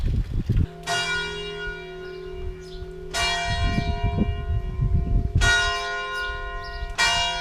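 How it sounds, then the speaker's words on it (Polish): Church bells ringing for mass in a valley village, struck in several loud, resonant peals whose rich tones ring on and decay between strikes, with faint background rumble and no talk. "Dzwonią na mszę."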